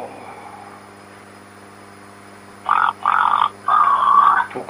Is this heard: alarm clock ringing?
no